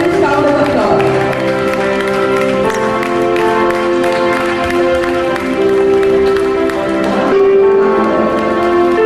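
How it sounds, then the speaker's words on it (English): A high school investiture ceremony audience applauds steadily, with the clapping running under loud sustained music and crowd noise for around nine seconds. "Let's give a thunderous round of applause."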